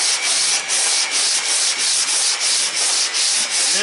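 Sandpaper rubs back and forth by hand over the body panel of a 2015 Toyota Tacoma under collision repair, making loud, close, rhythmic rasping strokes, about a dozen in quick steady succession.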